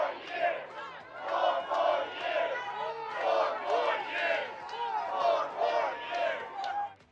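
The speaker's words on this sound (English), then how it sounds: "crowds coming out in New York City to show their support" Crowd of Trump supporters gathered in New York City, loud chanting and shouting voices rising and falling in a rhythmic pattern, close and energetic throughout.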